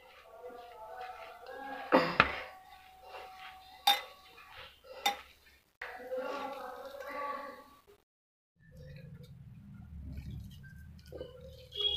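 Gram flour is mixed into a grated bottle gourd kofta mixture in a metal bowl, with scraping and clinking of a spoon against the bowl in uneven bursts, followed by a stretch of quieter rustling.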